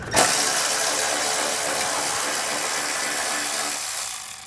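Rapid ratchet clicking while removing an exhaust heat shield bolt on a Polaris RZR Pro XP, a dense mechanical buzz of steady clicks heard close-up and alone, stopping abruptly near the end.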